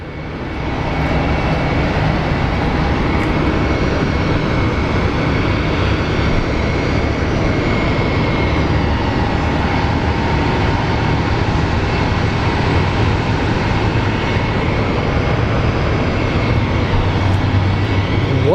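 A UPS Airbus A300 jet with General Electric engines roars loudly and steadily throughout, a dense, sustained airport engine noise with no voices over it.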